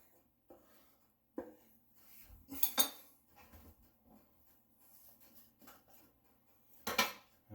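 A knife slices through green chilies for chile verde on a cutting board, a few short cuts and scrapes with sharper clicks and knocks of the blade against the board, close and fairly quiet.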